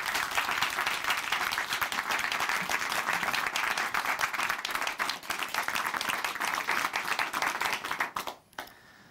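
A church congregation in Chuncheon claps to welcome a speaker, a loud, dense, steady burst of applause lasting about eight seconds before quickly dying away.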